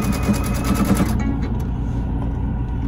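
A sewing machine zigzag-stitches across the inside of a seam while on the road in an RV, its motor whirring in a steady, close, continuous buzz that eases off after about a second.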